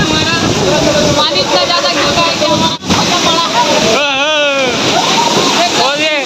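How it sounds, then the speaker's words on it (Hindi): Heavy rain pours down during a wedding procession dance, a dense steady wash of splashing water under loud voices and singing throughout. "पानी इतना ज्यादा गिर रहा है"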